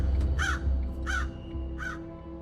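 Crows caw three times in a row, evenly spaced, loud and close, over a low rumbling background of a car driving on a rough rural road.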